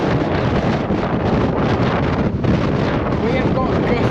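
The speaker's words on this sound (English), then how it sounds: "We have got gusts of up to 50 miles an hour here at the moment" Strong wind gusts on a stormy day buffet the microphone with a continuous loud roar that surges and dips, with no other clear sound over it.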